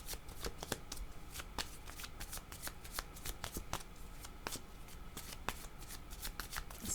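Tarot cards being shuffled by hand, a steady run of crisp riffling flicks and slaps, close and fairly quiet, with no speech over it.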